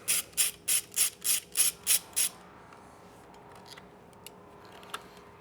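A 5mm Allen key backs a screw out of a 2024 Triumph Bonneville Bobber: eight quick, evenly spaced ratcheting clicks up close, then near silence with a couple of faint ticks.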